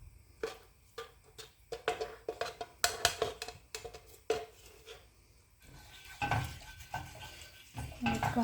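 Scrambled egg being stirred in a hot cast iron pan: repeated scraping and clinking strokes of a utensil against the metal, close and fairly loud, with a light sizzle underneath.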